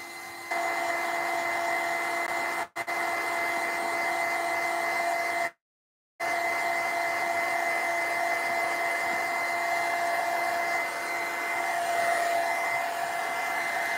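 Hair dryer blowing on an altered art pumpkin, a loud steady whine running continuously apart from two brief cutouts, with no talking.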